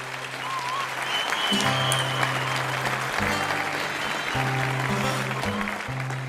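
Loud applause from the audience at a Catalan havaneres sing-along in Calella de Palafrugell, crowd clapping for the performing singers while low sustained tones sound underneath.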